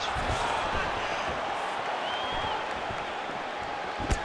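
Crowd noise in the video game UFC 5, a fight simulation of Sean O'Malley vs. Merab Dvalishvili at UFC 306, as a steady arena roar of cheering and applause continues under commentary.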